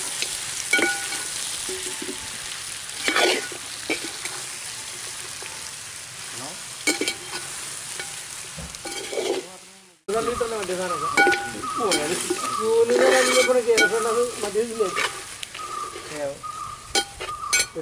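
Pre-cooked pork stirring and frying in a pan for a Kerala-style pork fry, with steady sizzling and spatula scrapes against the pan, close and fairly loud, with a short break midway before the frying continues.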